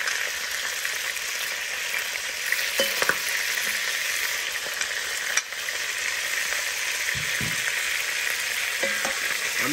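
Onions frying in a pan for chicken curry, a steady loud sizzle running throughout with a few faint scrapes and clinks of stirring; no voices.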